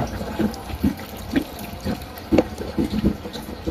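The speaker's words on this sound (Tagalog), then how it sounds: "maglalagay muna tayo ng konting tubig dito" Water is poured from a container into a tank for crayfish, giving soft, uneven splashes and gurgles at close range, with brief louder pulses of pouring and no talk.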